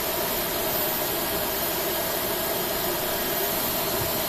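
An A320's number 2 engine spools up during a start in Flight Simulator X, a steady, loud broadband roar and whine holding constant without pause.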